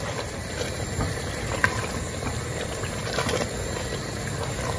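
Beans for Ghanaian waakye, with baking soda added, boiling in a covered pot: a continuous, fairly soft bubbling hiss with steady texture and no voices over it.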